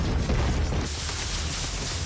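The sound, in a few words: BFG shot firing in the video game Doom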